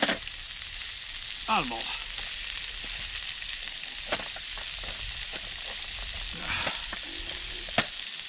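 Onions sizzle steadily in a frying pan over a Trangia camping stove, a constant loud crackle with a few clinks and scrapes of stirring, while a voice speaks briefly.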